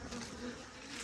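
Honey bees swarming the front of a large, crowded hive buzz in a dense, steady drone, close and continuous but fairly quiet, with no one talking.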